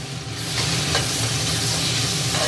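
A spoon stirs salt into simmering mutton kulambu, with steady scraping and a continuous bubbling sizzle from the pot, close and fairly loud, no voices.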